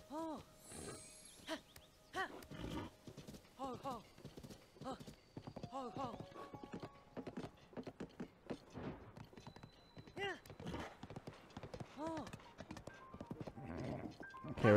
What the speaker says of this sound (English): Hello, horsey.